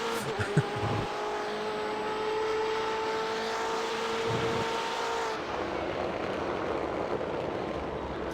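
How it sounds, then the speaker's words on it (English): Race car exhaust burbling and popping while downshifting off-throttle in iRacing, a continuous engine drone with crackling overrun that drops away abruptly partway through, leaving a quieter rumble. "That exhaust burble when you're downshifting, backed off is so nice"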